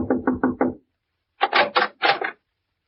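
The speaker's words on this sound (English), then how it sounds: "knocked at the door of cabin number 4" Knocking on a wooden cabin door at a roadside motel: a crisp set of four quick raps, a short pause, then three heavier, more resonant knocks, close and loud with no voices.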